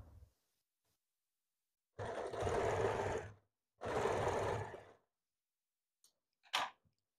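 Sewing machine stitching a double katori blouse, two distinct bursts of fast whirring stitches separated by quiet, followed by a few faint clicks.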